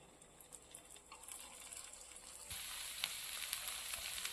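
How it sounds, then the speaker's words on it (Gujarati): A potato cheese chilla fries in oil on a pan over a low flame, a soft steady sizzle that grows denser and louder partway through, heard alone. "હવે આપણે ફરતી કોટ તેલ લગાવીને એને ધીમા તાપે ચડવા દઈશું."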